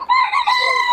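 A rooster crows once, close and loud, a short bright call lasting under a second.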